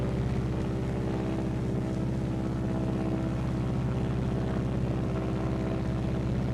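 A Martin B-26 Marauder in a glide with flaps being lowered, its engines giving a steady, loud, continuous drone with a deep rumbling hum throughout, no voices.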